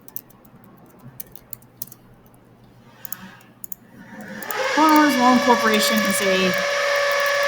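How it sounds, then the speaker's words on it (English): A power drill from construction work nearby whines loudly for a few seconds with a rising, wavering pitch after a stretch of faint ticking, while a person speaks in the foreground. "Don't mind the drilling, they're working on something over there."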